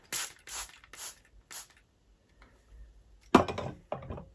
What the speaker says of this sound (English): you just take a spray bottle and you just lightly spray that